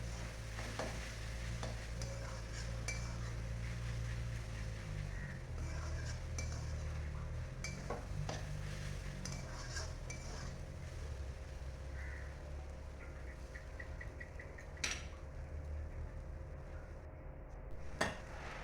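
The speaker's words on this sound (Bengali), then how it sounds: "দিয়ে আরও ভালো করে মশলাগুলো মিশিয়ে নিয়ে ভালো করে ভাজতে থাকবো।" Taro fries in a pan with cumin, coriander and chilli powder, a steady low sizzle running throughout while a utensil scrapes and stirs in scattered clinks and taps, with no talking.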